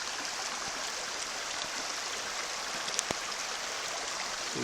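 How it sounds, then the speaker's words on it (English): Steady rain falling outdoors at a riverside gold prospecting dig in New Zealand, a dense continuous hiss with a few louder drops and splashes standing out, no talk over it. "Well, it's raining."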